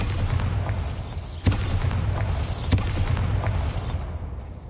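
A Bombarda spell explodes in a Harry Potter video game: two sharp booms land about a second apart over a dense, rumbling game ambience.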